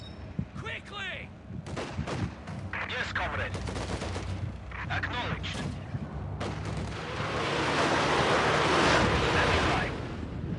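Gunfire from a 3v3 Company of Heroes 2 battle with a Soviet rifle division, several sharp bursts and shots in the first half followed by a louder sustained rumbling barrage, with voices talking over parts of it.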